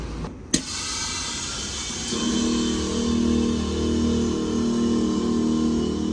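A BMW E34 540i M-Sport is driven up onto a trailer, its engine a steady low hum that swells slightly after a brief knock, heard close with no talking.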